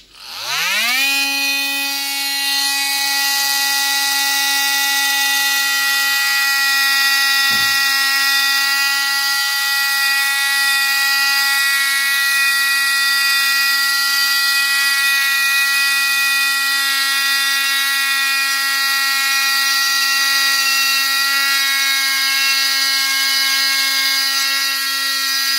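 An Einhell Varrito oscillating multi-tool saws into a wooden beam, spinning up and holding a steady, high-pitched whine with strong harmonics, running continuously for the whole stretch.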